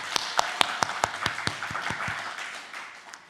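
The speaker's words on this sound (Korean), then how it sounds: "하나님께 영광의 박수 올려드리겠습니다" A church congregation applauding during a Korean afternoon service, beginning with a few distinct sharp claps in an even rhythm that blur into softer, scattered clapping, fairly close, with no talking.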